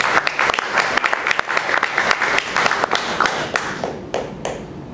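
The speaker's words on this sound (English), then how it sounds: "You can clap for" A church congregation applauding at a Sunday service after an offering total is announced, lively close-up clapping with sharp individual hand claps standing out from the crowd and tapering off near the end.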